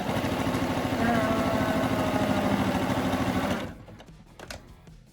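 A sewing machine stitches fabric with a steady, close, rapid mechanical whir for about three and a half seconds, then stops, leaving a few faint clicks and handling noises.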